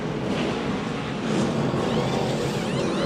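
A stock race car comes down pit road during the 2011 Lenox Industrial Tools 301, its engine a steady loud roar blended with broad track noise, with no voices heard.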